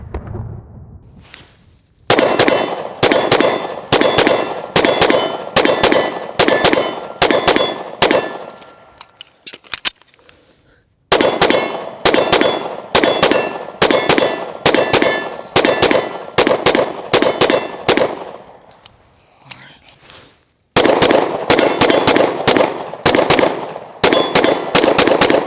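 Integrated-compensator pistol, a sub-$500 handgun, fired in three strings of rapid shots, each string a fast run of loud, sharp reports with ringing decay, separated by brief pauses.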